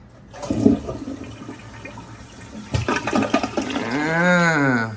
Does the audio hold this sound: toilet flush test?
yes